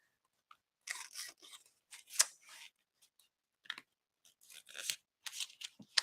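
Crunchy starched floral tape being handled up close, a scatter of crisp crinkles and rustles coming in short bursts with quiet gaps between them, and no talking.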